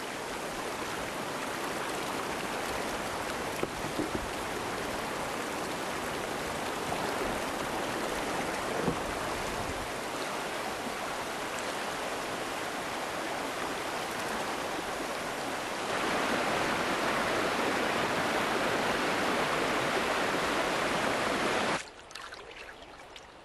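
River rapids rush on a canoe journey, a loud, continuous roar of churning water lasting over twenty seconds, swelling stronger near the end before dropping off abruptly.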